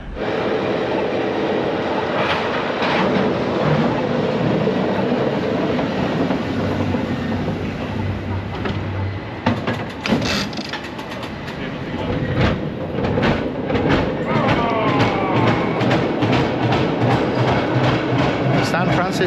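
A tram rolls past on a San Francisco street, a steady loud rumble of wheels and rail clatter with squealing metal toward the end, heard close up amid street noise.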